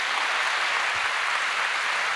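A church congregation claps to welcome a deacon, a steady wash of applause heard from a distance, even and continuous throughout.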